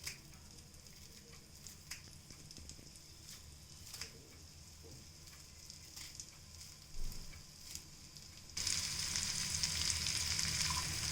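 Cut Delhi carrot frying in a little oil in a pan, a quiet crackling sizzle with scattered ticks and pops, swelling into a louder, brighter hiss for the last couple of seconds.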